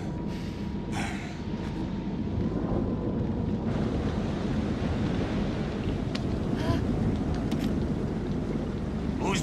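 In the Man of Medan video game, a storm at sea gives a constant heavy roar of wind and crashing waves, loud and unbroken, with occasional gusting swells.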